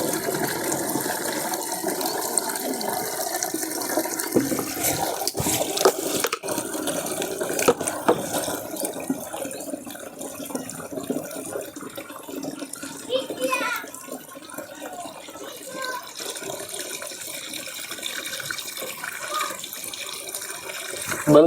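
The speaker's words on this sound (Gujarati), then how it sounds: "તો આ પાણી આવી ગયું છે ને, આપણે પંપની અંદર ભરી કાઢીએ પાણી" Water pours steadily into an agricultural spray pump tank on a farm, a constant rushing hiss that lasts throughout while several voices, including children's, talk nearby.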